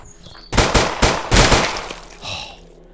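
Rapid bursts of gunfire in the video game Survive The Nights, a loud close volley of shots running together for about a second and a half, then a fainter trailing burst.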